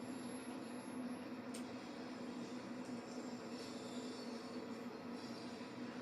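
London Underground tube train running in the Train Sim World 5 game on the Harrow to Elephant and Castle route: a steady, continuous rumble of wheels and motors with faint rail squeal, with no talking.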